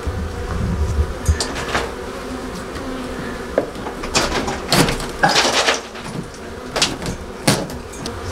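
Honey bees swarm around an established hive with dark honeycomb during a removal, a steady loud buzzing drone close by, broken by sharp knocks and scrapes of handling.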